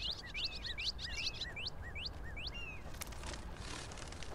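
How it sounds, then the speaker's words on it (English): Small birds chirp and whistle outdoors in a quick series of rising and falling calls over steady background hiss, fading after a few seconds. "Listen to all the birds."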